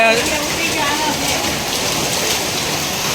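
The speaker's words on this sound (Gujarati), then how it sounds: "આ ધબધબાટી બોલી ધબધબાટી વરસાદની" Loud, dense roar of heavy rain and large hailstones pounding a surface, constant and unbroken, with a faint voice in the background at the start.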